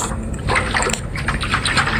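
Water pours into a jug in a Roblox game, a steady splashing fill with a few sloshing surges at close range and no talking.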